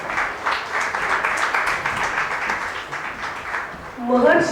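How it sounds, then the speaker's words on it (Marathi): An audience at a Marathi literary society gathering in Chembur, Mumbai claps steadily and fairly loudly as a guest is honoured on stage, and a voice starts speaking over the clapping near the end. "जोरदार टाळ्या."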